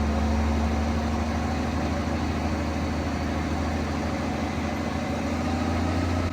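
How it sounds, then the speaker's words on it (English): The engine of a silage bagger on a farm runs loud and steady, a continuous low mechanical drone with a persistent hum heard close by and no speech. "the driver of the bagger revs up the engine, giving it more horsepower to be able to pull all of that silage in"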